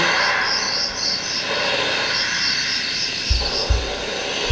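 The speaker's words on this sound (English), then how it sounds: "you can adjust the volume of the crickets" Synthetic crickets from an iPhone sleep-sound app, a steady close layer of high pulsing chirps over a constant hiss, with a couple of soft low thumps near the end and no voices.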